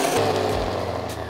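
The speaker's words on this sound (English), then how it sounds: "We're gonna add this into the blender." A blender whirs steadily as it purees noodles with a cup of their cooking liquid, a close, rough motor drone with a low hum shifting in pitch partway through the short burst.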